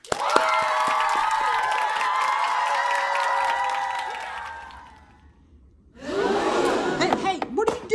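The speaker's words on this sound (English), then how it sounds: "Everyone give a round of applause for co-mayor Alexa." Crowd applause and cheering for a co-mayor, loud and sustained for about five seconds, then fading before another burst of noisy cheering and shouting breaks out.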